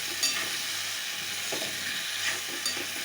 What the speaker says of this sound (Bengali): একটু হালকা সাঁতলে নিব